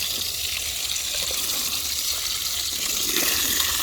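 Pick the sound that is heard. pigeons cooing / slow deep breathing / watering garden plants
watering garden plants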